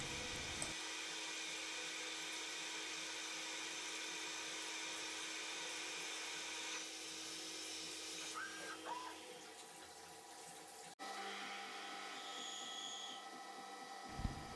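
Lathe taking a finishing cut on a square axle, a faint steady high machining whir with a constant motor hum, briefly interrupted near the end before running on.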